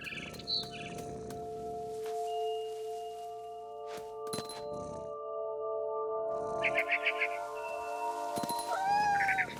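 A cat's meows in the video game What Remains of Edith Finch, short calls scattered over a steady tonal game soundscape, with faint chirps of a barn swallow near the end.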